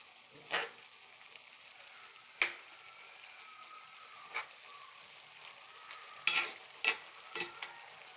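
Pinakbet vegetables are turned over in a pot, giving a few sparse, quiet scrapes and clinks scattered across a near-silent background, with one small cluster of knocks toward the end.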